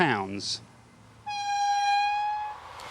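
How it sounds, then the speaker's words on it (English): A next-generation high-speed train on test in Eastern Europe sounds a long, steady, loud horn after a brief spoken moment, the tone holding for over a second before fading. "The next generation of high-speed train on test in Eastern Europe"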